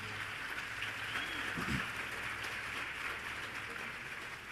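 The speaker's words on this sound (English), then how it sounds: "Please, can we give them a round of applause?" Steady audience applause for two guest speakers at a youth empowerment event, a continuous moderate wash of clapping with a brief low thump partway through.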